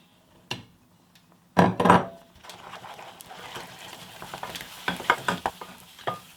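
Flour is stirred quickly into boiling milk and butter in a pot for profiterole choux dough, giving scraping, knocking stir strokes and bursts of sizzle, close and irregular, with no talk.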